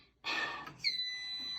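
A smoke detector system panel gives a quiet electronic beep, a thin sustained tone starting partway through after a brief rustle, fairly close but not loud.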